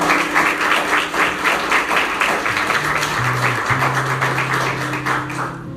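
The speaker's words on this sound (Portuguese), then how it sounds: "Pode aplaudir." A church congregation applauds during a sermon about Mary, a loud, even wash of clapping hands with a low sustained tone running underneath.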